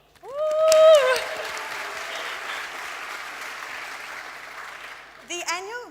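Audience at a school arts awards evening cheering and applauding, a loud burst of clapping and whoops that swells early and then settles into a steady sustained applause, with a brief rise near the end.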